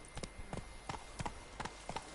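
Hoofbeats of Roach, the horse in The Witcher III: Blood and Wine, a quick galloping clip-clop rhythm of sharp, evenly spaced thuds heard clearly with little else around.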